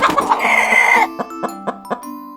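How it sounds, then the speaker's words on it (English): A chicken makes a loud squawking cackle, then a run of short, evenly spaced clucks, close up over soft background music. "chicken,"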